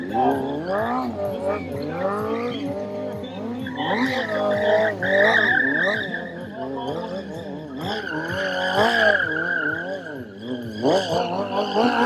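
A BMW motorcycle does a stunt run at the MaxBMW Wheels in the Field 2019 show, its front tire skidding with loud, sustained squeals and rising and falling engine tones that fill the whole stretch, with a voice heard alongside.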